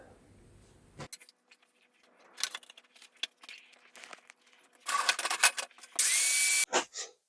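Power drill boring through 8mm steel on a rusty Rav 4 towbar, heard as intermittent grinding bursts and scraping that grow louder toward the end, with a sustained whining stretch near the close.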